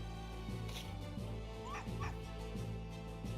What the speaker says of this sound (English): Oh, wait a minute, that aggressive bark.